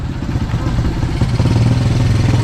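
A motorcycle engine runs close by with a steady, clattering mid-pitched drone and slight fluctuations in revs, heard at an outdoor camp.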